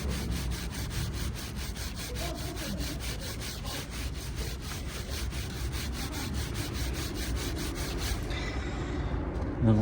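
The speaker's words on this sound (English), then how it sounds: "Just keep on scrubbing." A brush scrubs the chain of a Ducati S2R 1000 motorcycle during cleaning, a dense, steady back-and-forth rasping with rapid regular strokes, close and loud throughout and easing off near the end.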